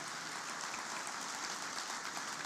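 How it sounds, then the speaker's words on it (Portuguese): A church congregation claps together in a sustained, dense wash of applause, moderately loud and steady, with no voices standing out. "Aplauda o Senhor."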